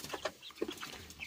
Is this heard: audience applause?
no